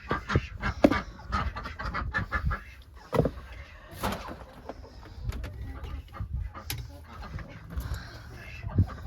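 Chickens and ducks during evening chores at a backyard farm: scattered clucks and bird calls, along with knocks and rattles of doors and equipment. The sounds come in irregular bursts at close to moderate range.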